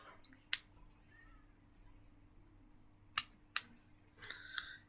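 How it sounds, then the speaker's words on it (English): Scissors snip card to cut a notched banner edge in paper crafting: a few sharp, close clicks, one early and a quick pair later, over a quiet background. "we're just going to snip in the middle, snip either side"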